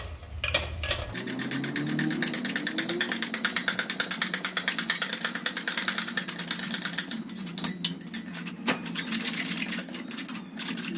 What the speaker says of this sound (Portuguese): Agora já removemos as porcas do catalisador.